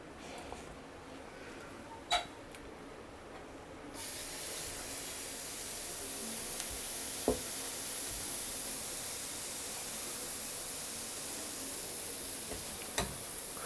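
A steady, close sizzling hiss of pancake batter in a buttered pan that swells louder partway through and continues, with a few faint clicks and taps.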